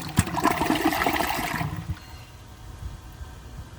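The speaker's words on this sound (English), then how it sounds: "So I guess I'll just flush it again and see if it can take the rest of that stuff out." A WaterRidge one-piece toilet flushes with a rushing gush of water that lasts under two seconds, then fades to a quieter trickle and gurgle as the bowl refills.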